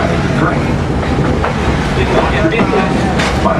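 Walt Disney World Railroad train at Magic Kingdom rolling along the tracks, a loud, continuous rumble with rhythmic clatter and squeal close by.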